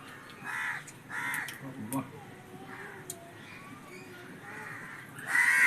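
Several crows caw in bursts from a short distance, the calls repeating irregularly over steady outdoor background noise.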